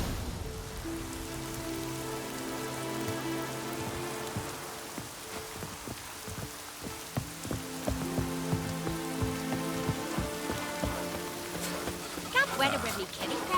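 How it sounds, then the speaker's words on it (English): Rain falling in The Witcher 3: Wild Hunt, a soft continuous patter beneath sustained game music, with louder, denser drops near the end. "Rain's back again."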